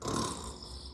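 A storyteller imitates a little dragon snoring during a children's storytime, producing one drawn-out, breathy, rumbling snore that fades slowly.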